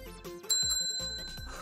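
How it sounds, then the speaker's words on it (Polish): A small bell rings in a few quick bright dings close by, each with a short ringing tail, with no voices. "Dzwoneczek! Słuchajcie!"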